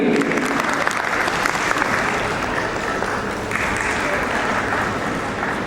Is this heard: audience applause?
yes